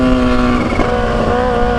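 A Kawasaki Ninja H2 motorcycle engine sounds while riding on a road: a loud, steady, close drone with wind noise, holding one pitch and then shifting slightly.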